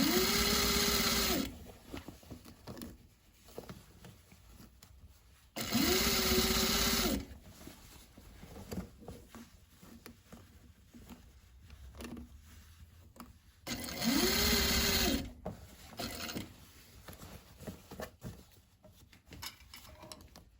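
A sewing machine stitches a fabric bag in three separate loud bursts of about two seconds each, with quieter handling sounds between the runs.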